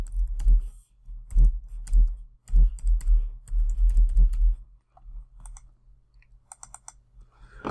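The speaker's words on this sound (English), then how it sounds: "I'm going to type the name of the next one" Keys clack on a computer keyboard in short bursts of rapid typing separated by pauses, close and clear, ending with a few scattered isolated keystrokes.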